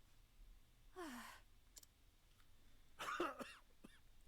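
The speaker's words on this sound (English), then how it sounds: "Cough, cough." A character in the Octopath Traveler video game coughs, voiced as a short hoarse burst followed a couple of seconds later by a louder cluster of rough coughs, close and clear over a quiet background.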